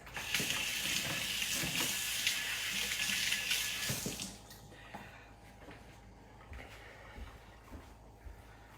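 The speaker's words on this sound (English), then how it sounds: "let me wash my hands here a second" Hands being washed under a running kitchen tap, with a steady hiss of splashing water for about four seconds before the flow stops, leaving faint drips and small kitchen clatter.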